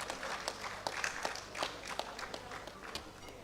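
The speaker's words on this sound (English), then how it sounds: "I believe she deserves a round of applause for that." Audience applause for a society president at an evening fellowship conferment ceremony: faint, steady clapping from a room full of people, with scattered sharper claps standing out and little else audible.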